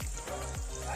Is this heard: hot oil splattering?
yes